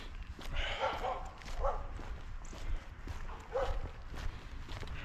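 Neighborhood dogs bark in short, scattered bursts at a distance during an outdoor walk in Maine, faint beneath steady footsteps and ambient noise.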